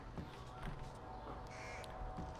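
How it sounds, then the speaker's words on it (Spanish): Birds cawing like crows in the stealth video game Thief, several harsh calls scattered over a faint ambient bed, quiet and somewhat distant. "Qué mal rollo, tío, los pajaritos estos."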